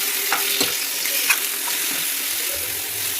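Chicken pieces fry in a pan with golden-browned onions for gongura chicken, giving a steady sizzling hiss with occasional stirring clicks and spatters, close and with no talk.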